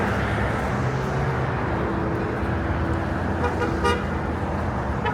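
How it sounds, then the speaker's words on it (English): Car horns toot in short bursts within dense roadway traffic along the Las Vegas Strip. The horns are fairly close and sound over a constant hum of engines and street noise. "Well, honking back and forth."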